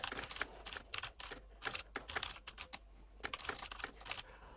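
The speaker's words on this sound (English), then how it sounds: "And let's type the prompt." Fingers typing rapidly on a computer keyboard, with bursts of quick close clicks broken by short pauses, fairly quiet and with no voice.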